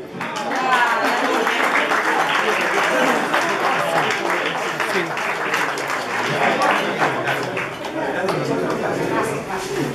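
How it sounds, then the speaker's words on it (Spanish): A crowd claps at a Journalists' Day lunch, loud and sustained throughout, with voices chattering and talking over the applause. "aplaudiendo"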